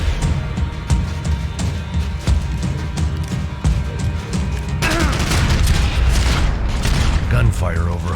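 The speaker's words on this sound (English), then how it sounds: "Gunfire over Hoboken." Gunfire and explosions from the video game Max Payne 3, set over Hoboken, form a dense, continuous barrage of shots and booms that grows louder and busier halfway through.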